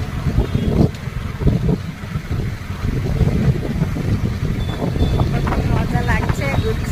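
Wind rushes hard against riders on a moving motorbike on a hot day, a constant low buffeting roar under a steady stream of nearby talk.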